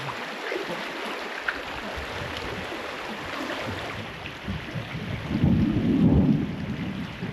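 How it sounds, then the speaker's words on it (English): A mountain thunderstorm with steady rain and a deep rumble of thunder that swells loudly near the end. No voices are heard. "hiding from the lightning right now"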